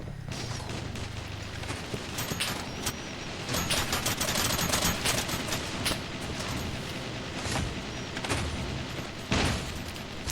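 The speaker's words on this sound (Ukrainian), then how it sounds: "Хто стріляє? По кому стріляють?" Rapid bursts of robot gunfire in a video game crackle almost continuously, with sharp mechanical shots and booms in a dense, busy battle.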